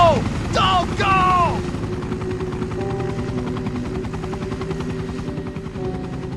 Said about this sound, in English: as the helicopter disappears into the night sky